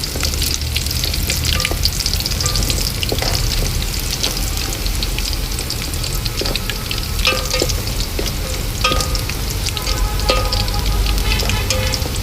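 Onions fry in a pan with a dense, steady sizzle and crackle throughout, punctuated by occasional scraping stirs, loud and close with no talking.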